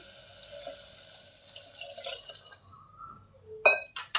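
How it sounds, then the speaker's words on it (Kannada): Water poured into a pan while cooking a sprouted-legume gravy, a steady soft liquid rush through most of the clip, ending in a few sharper splashes and clinks near the end, close and moderately loud, with no talk. "ಸ್ವಲ್ಪ ನೀರು ಹಾಕಿ"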